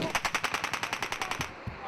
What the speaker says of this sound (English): Taking fire from the east, vicinity Donga, and fire from the south.